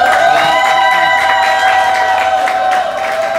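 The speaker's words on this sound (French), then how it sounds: "On l'applaudit." Wedding guests at a civil marriage ceremony cheer and clap in a loud, sustained crowd roar with whoops and shouts, steady throughout with no speech over it.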